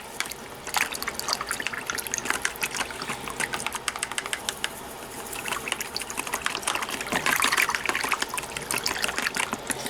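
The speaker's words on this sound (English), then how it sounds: "So we're just going to mix a little bit of this in there. And we'll mix it up pretty good." Mild dish soap stirred into a container of water, a continuous close sloshing and trickling with splashy swirls that grow busier toward the end.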